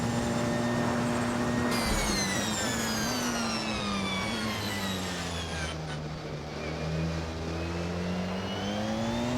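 A Porsche 919 race car engine in the video game Assetto Corsa roars continuously, its pitch climbing through the gears, with a shift partway through, a steady loud drone and no voices.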